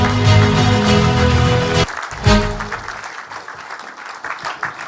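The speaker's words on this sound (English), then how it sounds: "Ladies and gentlemen, with a round of applause and a standing ovation, let's make welcome Pastor Sam Iheanacho." An audience claps to welcome Pastor Sam Iheanacho onto the stage, loud dense applause that cuts off abruptly partway, followed by scattered lighter clapping and some crowd noise.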